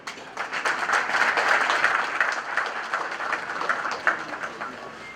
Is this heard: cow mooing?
no